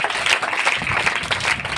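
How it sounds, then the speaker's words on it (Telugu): Ninth-grade schoolchildren clap together during a school skit, a short burst of brisk, uneven applause from a group close by with no voices over it. "చప్పట్లు కొట్టండి పిల్లలు"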